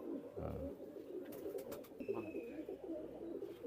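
Teddy pigeons coo softly in a low, steady murmur, with a few brief higher chirps and clicks over faint background noise.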